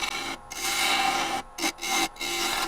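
Gouge taking light cuts on spalted oak spinning on a wood lathe, a steady raspy scraping hiss broken by a few short pauses between passes, close and loud with no talking.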